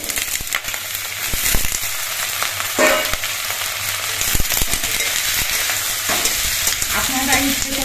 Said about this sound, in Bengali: আলুগুলো দিয়ে আমি 3-4 মিনিটের মতো ভেজে নিয়েছি।